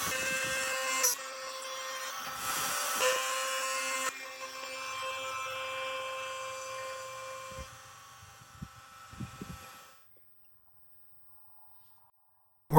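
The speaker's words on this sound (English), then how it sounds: "We're cutting the sliding dovetail tails into the panels that will fit into the dovetail slots of the posts." CNC router cutting sliding dovetail tails into white oak and walnut panels, a steady high-pitched machining whine with a louder opening passage, easing down before cutting off into near silence.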